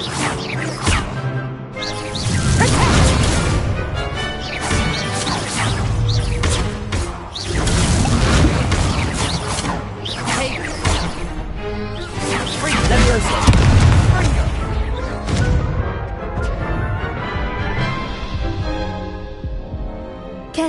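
The Incendio fire spell in Hogwarts Legacy is cast repeatedly, giving loud, heavy booms and whooshing bursts that land in irregular succession over a dense game soundscape, with talk mixed in.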